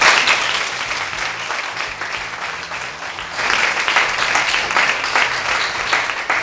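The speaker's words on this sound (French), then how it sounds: "Je pense que ça s'applaudit" Audience applause on a French youth arts and culture TV programme, a dense steady wash of clapping that swells louder about halfway through, with no voices over it.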